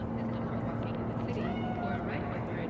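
A cat meows within the game Cyberpunk 2077, a few faint wavering cries rising over a continuous low mechanical drone and hum, with people talking in the background.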